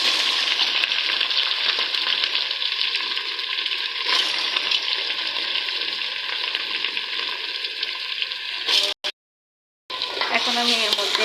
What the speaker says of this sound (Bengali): এখন আমি এর মধ্যে দিব আমার ধুয়ে রাখা চাল।